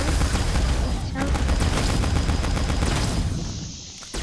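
Rapid gunfire in the Roblox game Tower of Zombie, dense bursts of automatic shots filling most of the stretch, loud and close, tapering off near the end.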